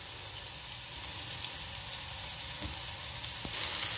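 Chopped onions fry in oil in a handi cooking pot for a fish gravy, giving a steady, close sizzle and hiss that runs throughout with a few soft stirring knocks near the end.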